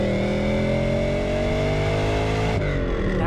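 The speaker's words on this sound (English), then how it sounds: "That engine just feels like a thoroughbred." A Lancia Thema 8.32 with its Ferrari V8 engine accelerates hard from inside the car, revs climbing steadily in a loud, smooth, rich tone before a sharp gear change.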